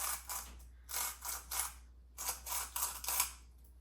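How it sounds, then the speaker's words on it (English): Salt grinder cranked over ramekins of brunch salt: short bursts of dry, gritty ratcheting grinds, several quick twists in two clusters, close and fairly soft. "we're just gonna pop the little top and about maybe 2 grinds per one"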